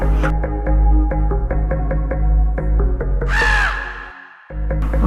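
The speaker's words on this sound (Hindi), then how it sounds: "कौवा कांय कांय कर रहा था।" A crow caws in a run of sharp, repeated harsh calls, loud and close, with one longer rising cry near the end, set in an outdoor scene with no speech.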